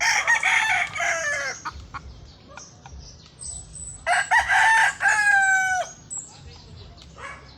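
A chicken hiding among large rocks, where many eggs have been laid, clucks in sharp bursts and crows loudly from nearby, the calls coming in uneven clusters with brief quiet gaps.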